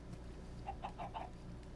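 A chicken in a video game lets out a short burst of about four quick clucks, clear and moderately close, over a low steady background hum with no talking.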